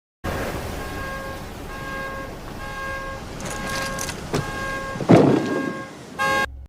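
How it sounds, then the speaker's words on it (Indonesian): A car alarm sounds in repeated steady electronic tones, moderately loud, with a brief louder burst near the end. "terganggu dengan suara alarm dari mobilnya"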